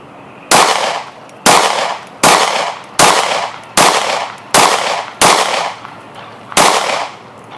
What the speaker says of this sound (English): So let me reload and we'll do a little bit of faster shooting.